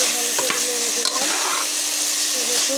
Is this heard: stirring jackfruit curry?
yes